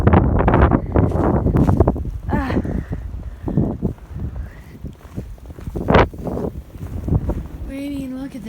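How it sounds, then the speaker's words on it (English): Strong wind gusts roar and buffet the microphone during a snow storm in Columbus, Ohio, loud and constant, while someone talks over it. "As you can tell, wind is high, very high"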